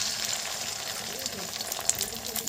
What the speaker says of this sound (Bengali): এবারে কড়াইতে তেল দিয়ে দিয়েছি। ডিমগুলো একে একে ভেজে নেব।